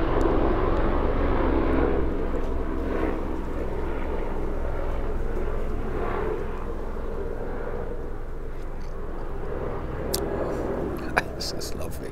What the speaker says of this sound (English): No, plane, actually a helicopter.